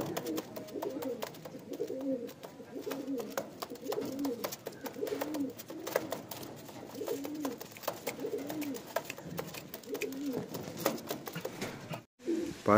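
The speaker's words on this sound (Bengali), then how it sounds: "এটা নর পায়রা।" A male pigeon coos close by in a steady, repeating rhythm of low throaty rolling calls that continues throughout, with faint background noise.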